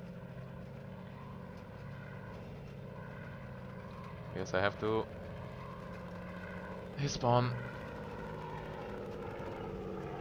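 Propeller planes drone steadily overhead in the WWII video game Battleground Europe, a continuous engine hum that runs throughout while someone talks briefly twice over it.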